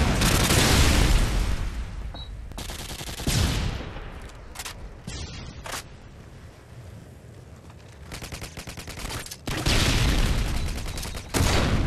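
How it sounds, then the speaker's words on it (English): Heavy explosions and rapid automatic gunfire erupt in bursts during a Modern Warfare 2 Domination match, loud booms alternating with quieter gaps as a predator missile strike lands. "Friendly predator missile incoming."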